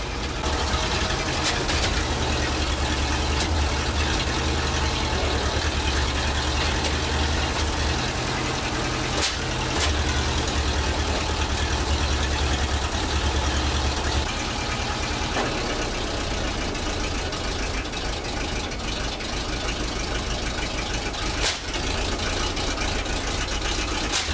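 A heavy old ZIL crane truck engine, abandoned for 20 years and just restarted, idles steadily with a low, rough rumble, continuous throughout with no talking.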